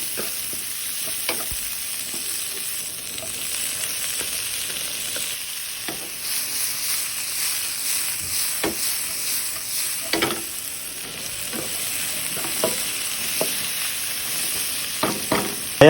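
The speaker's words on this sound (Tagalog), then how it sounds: "una-una ginisa natin ang ating luya at ang ating sibuyas" Ginger and onion sauté in a pan for a Filipino milkfish sinigang with miso: a continuous close sizzle broken by occasional sharp scraping strokes of a spatula, with no voices.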